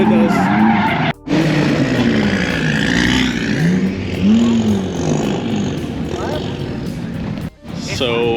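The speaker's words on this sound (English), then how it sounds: "So they're drifting the BMW Cup car." A BMW Cup race car drifting at a drift club in Vietnam, its engine roaring and tires skidding in long rising and falling screeches, loud and close, with brief cut-outs and a voice talking over it.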